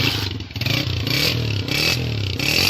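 A new 2022 Honda 125 motorcycle engine idling and revving close by, with a rough, pulsing mechanical rumble and rising surges in pitch.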